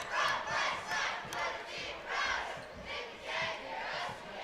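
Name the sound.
student section cheering at a girls basketball game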